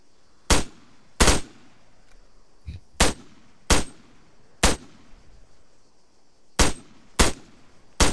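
Gunshots in Arma 3, nine sharp loud reports spaced irregularly across the stretch, each a single crack with a short tail, standing alone over faint background.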